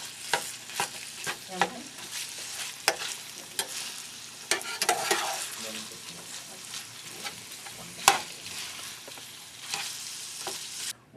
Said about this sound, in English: now that we have the ground beef frying up